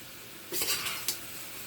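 Fried gongura leaves being stirred in a pan for a vegetable biryani, a brief scrape and soft sizzle with a couple of quick utensil clinks against the metal, no voices.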